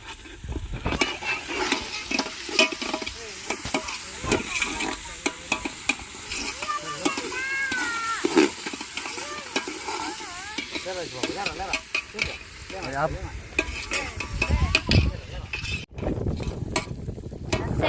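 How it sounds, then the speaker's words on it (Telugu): Ginger garlic paste stirred in a hot oiled frying pan while cooking pulao at an outdoor picnic, a steady sizzle and fry under continual scraping and stirring strokes, close and fairly loud throughout with no talk. "అవి వేగిన తర్వాత అల్లం వెల్లి పేస్ట్ కూడా వేసేసుకున్నాం"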